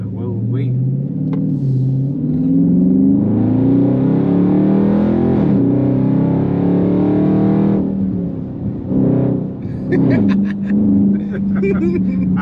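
A C8 Corvette engine revs up, its exhaust rising in pitch and droning loudly, then settles and blips again with some voices and rattles near the end.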